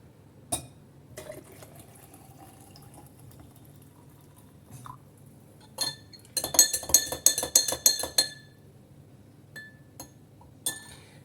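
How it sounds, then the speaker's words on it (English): Spoon and hot liquid clinking in a recycled glass jar while pouring, a burst of rapid glassy chinks and taps in the middle with a few isolated clinks before and after, over a low steady background hum. "I'm pouring it into the glass jar."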